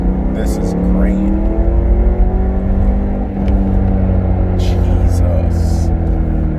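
A BMW E92 M3 with a KW HAS suspension kit accelerates on a test drive, its engine rising and falling in pitch through gear changes from inside the cabin, with a person talking over it.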